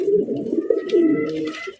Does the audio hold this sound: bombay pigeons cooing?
yes